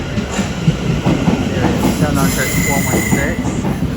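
A train of eight coaches pulls in at a London terminus, with steady rumbling and rail noise under a station announcement and other voices.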